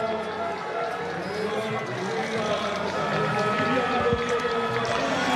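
Slovenian fans cheer at the Pokljuka biathlon stadium during a men's World Cup mass start, a steady, noisy crowd roar with a commentator talking over it.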